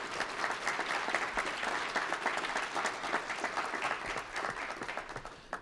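An audience gives a round of applause to faculty at a Johns Hopkins and Morgan State science internship event, steady crowd clapping throughout that thins slightly toward the end, no voices.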